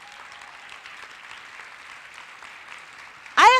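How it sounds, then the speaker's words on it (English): Audience applause at a women's business conference in St. Louis, a steady, moderately distant clapping texture that ends with a brief loud noise right at the end. "You have to stand up and you have to applaud them."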